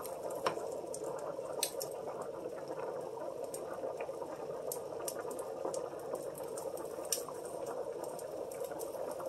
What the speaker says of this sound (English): heat to low, and you're going to let this simmer